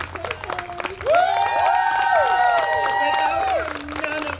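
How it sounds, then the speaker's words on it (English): At an outdoor Juneteenth 2021 celebration in Walpole, an audience claps steadily while a loud, drawn-out cheer rises over the applause before it fades. "How about a round of applause for some tables?"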